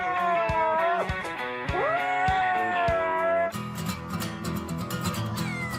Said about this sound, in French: Miaou, miaou.